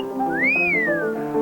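A rising-then-falling wolf whistle from a 1970 Whirlpool appliance film, a single clear swooping tone heard over a soft musical background.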